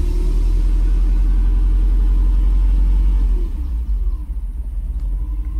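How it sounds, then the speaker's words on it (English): A Mercedes SL500 engine that has been leaking fuel, running with a loud, steady low rumble close by, then dropping to a rougher, uneven idle near the end; no one speaks. "time to see if it still leaks gas. I'm not sure if it'll start with how much gas came out"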